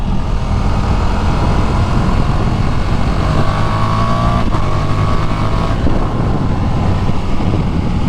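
A KTM 1290 R Super Duke motorcycle ridden slowly in second gear, its engine droning steadily and loud throughout with a slight rise in pitch midway, no voices over it.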